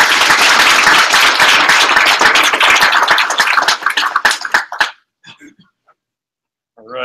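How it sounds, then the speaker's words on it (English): An audience at a Toronto Spark meetup tech talk bursts into loud, dense clapping that thins into scattered claps before dying away, followed by silence and then a voice starting to speak. "Round of applause."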